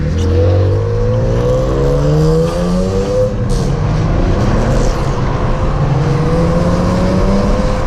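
A BMW Z3 M Coupe, set up as a track car, accelerates away hard, its engine note climbing steadily through the revs and pulling away in one long, loud run with no talk.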